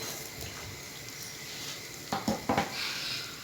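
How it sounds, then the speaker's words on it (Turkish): Raw börek, a pastry filled with herbs and greens, fries in hot oil, giving a soft steady sizzle with a few sharper clatters and splashes near the end as pieces are turned or added. "Her tarafını çevirerek kızartacağım."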